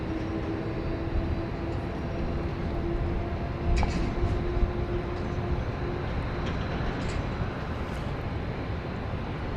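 A passenger plane, flight 458 from Little Rock, comes in over downtown to land on runway 31 left at Dallas Love Field, heard as a steady distant broadband engine roar under outdoor ambience, with a few faint clicks.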